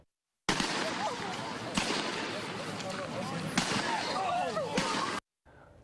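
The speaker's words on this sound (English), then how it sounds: "you can hear police firing beanbags to try to subdue the man" Police in Santa Maria firing non-lethal beanbag rounds at a man on South Broadway, heard as a few sharp bangs amid continuous loud, chaotic shouting and voices recorded nearby.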